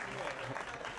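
An audience at a mushaira poetry gathering claps in a brief, faint, steady patter of applause.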